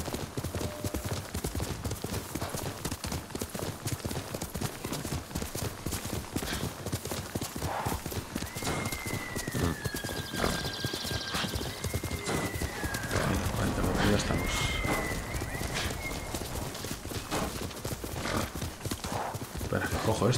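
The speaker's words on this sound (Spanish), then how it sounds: "Vamos a llamar a nuestro caballo que venga" A horse in the video game Ghost of Tsushima gallops in with rapid, continuous hoofbeats, neighing with rising and falling whinnies midway, while a voice talks over the action and game music plays.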